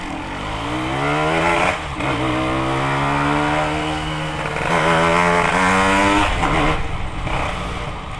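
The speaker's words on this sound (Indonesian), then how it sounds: "motor makin kenceng tuh makin berisik, jadi suaranya agak kasar sih emang" A 1983 Yamaha RX King Cobra motorcycle engine runs loud and close, its pitch climbing and dipping through several revs with a rough, buzzing, raspy tone.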